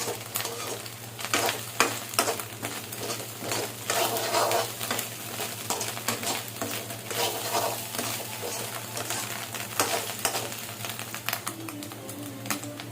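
Ginger garlic paste frying in a pan while egg fried rice is made, giving a steady sizzle with repeated scraping stirs and clinks throughout, close and fairly loud, no voices.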